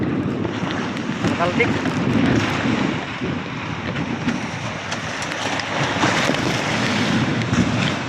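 Steady roar of wind and rushing water around a moving fishing boat in big ocean waves, with waves slapping continuously against the hull.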